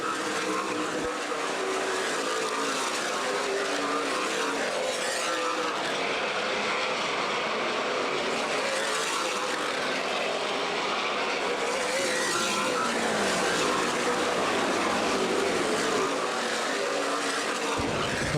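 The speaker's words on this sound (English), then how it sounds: "Chase Elliott being chased by Kyle Busch as they come down, completing lap number 45." Stock race cars in a CRA Super Series race at Anderson Speedway roar past in a continuous loud engine drone that swells and fades as the field circles the oval.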